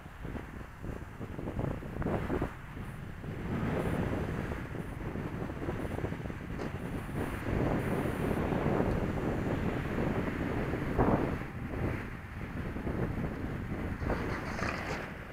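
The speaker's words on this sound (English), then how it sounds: "Catching kind of a crosswind that way, I think." Steady crosswind roars and buffets across an outdoor microphone at an RC flying field while a Hobbyzone F4U Corsair model plane flies, a loud continuous rushing that fills the whole clip with no clear talk.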